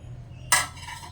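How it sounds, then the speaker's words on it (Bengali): A metal pot lid lifts off a pan of sweet mango chhana dessert with a single bright clink and short scrape, close and sudden after near quiet, then a brief fading ring. "তো ঢাকনাটা খুলে দেখাচ্ছি"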